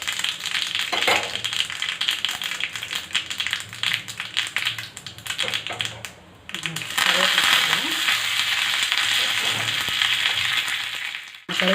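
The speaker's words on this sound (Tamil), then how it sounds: "கருவேப்பிலை நல்லா பொரிஞ்சு எடுத்து நம்ம தாளித்து போட்டாச்சு" Curry leaves and mustard seeds crackle and spatter in hot oil as a tempering for murunga keerai (drumstick leaf) uthapam, a dense broadband sizzle with sharp pops and clatter throughout, louder in the second half.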